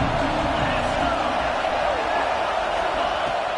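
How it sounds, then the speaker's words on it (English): A stadium crowd at a Notre Dame football game roars in a dense, sustained wash of cheering and noise, heard under a broadcaster's commentary. "This crowd bringing the energy and noise early."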